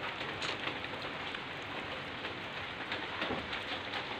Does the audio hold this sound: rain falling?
yes